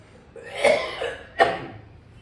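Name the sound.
cough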